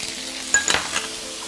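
Chopped chili hits hot rapeseed oil and lard in a wok with ginger, garlic and dried shallot, giving a sudden close sizzle with a few metallic clinks that quickly settles.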